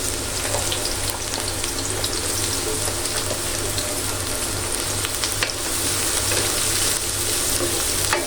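Sliced onions frying in a pan for a fish bhuna, giving a dense, steady crackling sizzle throughout at close range with no voices.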